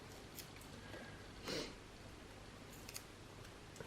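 Scissors trimming a piece of tape near a watercolor painting give one faint, quick snip-like cut, with a few soft clicks and rustles on a quiet background.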